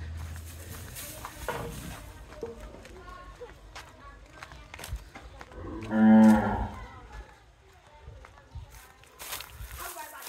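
A cow at a livestock sale, shown with her calf, lets out one loud drawn-out moo midway, among footsteps, rope handling and people talking nearby.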